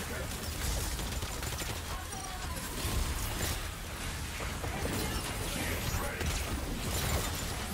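Dense, continuous gunfire and explosive bursts from the video game Exoprimal, sustained at steady loudness throughout with a person's voice talking over it at times.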